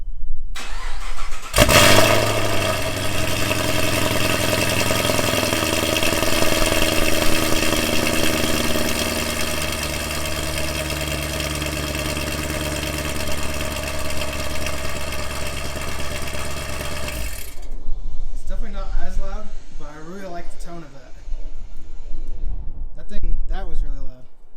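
Pontiac G8 fitted with American Racing headers cranks over and settles into a loud, steady idle for about fifteen seconds, then cuts off as people talk nearby.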